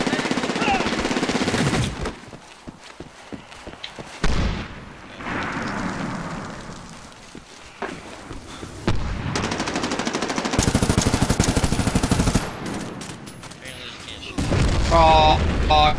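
Grenade explosions and rapid gunfire in the Medal of Honor shooter video game, with loud bursts of automatic fire, heavy booming blasts and short quiet gaps between, harsh and close throughout.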